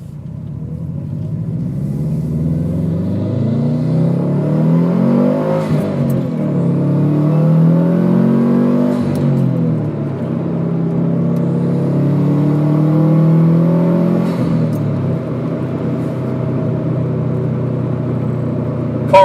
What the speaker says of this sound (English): The unequal length header that's on this vehicle is the true reason why the Subi rumbles.